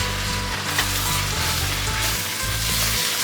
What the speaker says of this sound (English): I'm gonna add the sherry at this point.